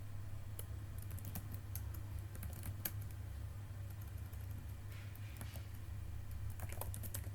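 Someone typing a password on a computer keyboard during a node setup, soft rapid key clicks in irregular bursts over a low steady hum, no voices.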